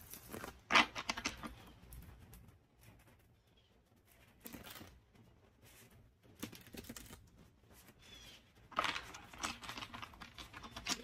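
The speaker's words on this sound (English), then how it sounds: "One more shuffle." Tarot cards being shuffled by hand, producing intermittent papery riffles and soft patters in irregular bursts, close and fairly quiet, with pauses between shuffles and no talking.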